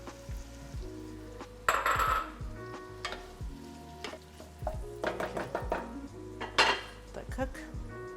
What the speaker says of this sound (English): I'm also going to add my potatoes at this time.